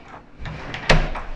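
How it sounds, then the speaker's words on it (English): A house door swings shut with a soft sweep and a sharp latch click near the end, close by in an indoor room. "I'm gonna close this door because they have their own door from here."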